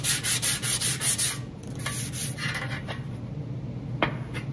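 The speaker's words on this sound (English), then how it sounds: "right now I'm just using a sanding block" Steady rhythmic rubbing of a sanding block on a hammer-and-dolly-shaped metal panel, quick back-and-forth strokes at first, then slower, rougher scraping, close and alone.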